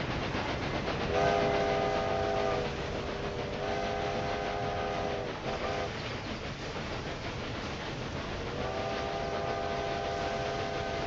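A passenger train in the Railway Empire 2 video game rumbles along steadily, its horn sounding in several sustained blasts over the continuous rolling noise of the cars.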